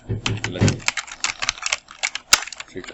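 Rapid clicks of a computer keyboard being typed on, quick irregular keystrokes up close, with a brief voice murmuring at the start.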